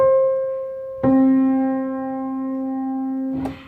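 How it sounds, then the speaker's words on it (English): Two sustained notes, a higher tone followed by one an octave lower, each held and ringing clearly, with nothing else playing. "Descending octave sounds like this."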